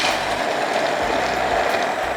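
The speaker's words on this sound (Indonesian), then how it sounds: "Ini mau langsung aja kita blender." A kitchen blender grinds cooked peanuts with spices into a paste, a steady, dense whirring and grinding roar that holds at an even level throughout without pause.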